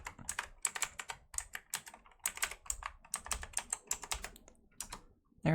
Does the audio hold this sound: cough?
no